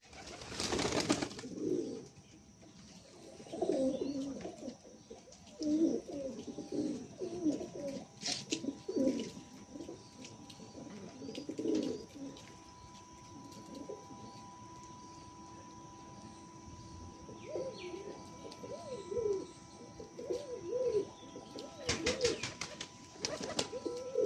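A pair of Malayali pigeons coo at length, with bursts of low rolling calls coming and going under a faint steady hum and a few sharp clicks.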